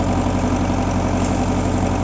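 A tractor engine idles in a wooded setting, a steady low throbbing rumble with an even mechanical pulse, loud and close, with no talking.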